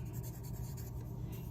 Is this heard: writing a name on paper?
yes